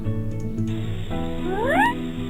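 A cartoon cat meows in the Baby Hazel bathroom hygiene game, one drawn-out rising mew over steady background game music.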